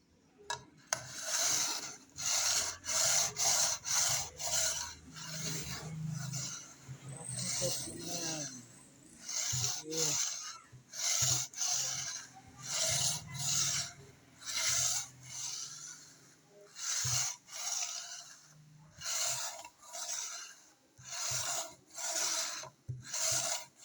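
Rhythmic rasping strokes of sandpaper on guitar wood, repeated back and forth in steady bursts with brief pauses, close up, with occasional low voices.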